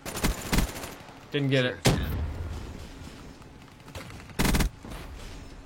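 Gunfire bursts in a team deathmatch video game, several sharp shots spread across the clip with a longer rattling burst near the middle, mixed under a player's voice talking.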